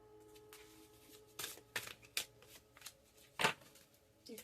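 Oracle and tarot cards are shuffled by hand in soft, papery bursts of riffling and slapping, close and quiet, with brief pauses between shuffles.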